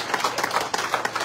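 An audience at a government relief camp in a village council area of Kuchaman City clapping together, a quick, loud burst of dense claps lasting about a second.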